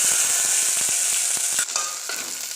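Ground chili going into hot oil for a sweet-and-sour moong dal, giving a loud, dense sizzle. It starts with rapid crackling pops, then eases after a sharp shift into a steadier, softer hiss.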